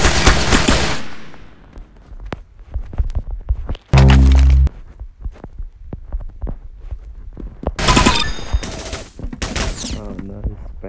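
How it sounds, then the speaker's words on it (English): Rapid bursts of Micro Uzi automatic fire in the Roblox game Arsenal, loud and close, in two or three sharp clusters separated by quieter gaps with a brief buzzing tone between them. "Micro Uzi."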